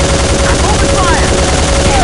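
Dense, loud, continuous gunfire fills a battle against a rebel encampment in the PC shooter Soldier of Fortune II: Double Helix, with a shouting voice partly buried in the barrage.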